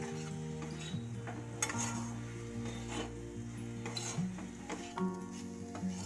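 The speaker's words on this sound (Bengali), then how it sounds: "এবার পেঁয়াজটা নরম হয়ে যাওয়া অবধি ভালো করে ভেজে নেব।" Two large chopped onions fry in a pan with a spoon of sugar and vinegar for a chicken roll filling, giving a steady close sizzle with scraping stirs and occasional utensil clinks.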